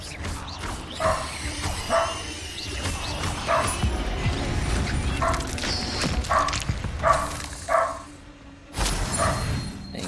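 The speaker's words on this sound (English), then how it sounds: "What are you barking at, mister?" A dog in the video game Hogwarts Legacy barks repeatedly in short sharp bursts, loud and close, with brief pauses between the yips and some clattering game effects in between.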